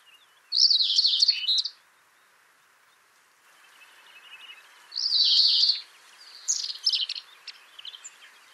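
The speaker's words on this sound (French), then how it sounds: "il y a un verdier, etc." Spring birdsong with a European greenfinch among the singers: two separated bursts of bright chirping and twittering, then scattered shorter calls, fairly close and clear over a quiet background.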